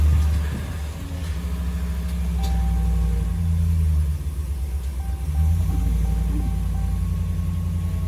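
A 2019 Ram 1500 engine starting and then idling, a loud, close, steady low rumble that swells slightly midway and settles again.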